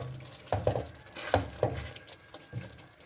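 Mash dal (white lentils) frying in a pan while being stirred, with a few quick scraping clinks and a soft sizzle underneath; the stirring comes in short separate bursts and no one talks.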